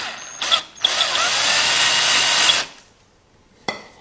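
A power drill bores straight down into a bolt head on a Honda engine, whining loudly and steadily for about two seconds between short starts and stops, followed by a brief final burst.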